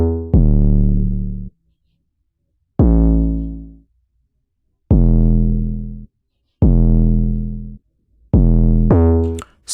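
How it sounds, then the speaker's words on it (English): A deep 808 bass plays five booming notes with gaps between them, each one loud and rounded and fading away slowly, alone with no other sound. "So this is our 808."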